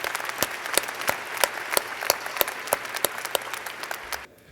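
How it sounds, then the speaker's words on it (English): Audience applause at a university commencement ceremony at NC State, a steady wash of clapping with sharper individual claps standing out, lasting about four seconds before dropping off abruptly. "That's worthy of applause"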